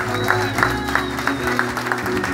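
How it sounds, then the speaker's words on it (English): Audience applause in a room at a legislative achievement awards ceremony, steady clapping with distinct claps standing out over a low background hum, continuing briefly. "give them yet another round of applause"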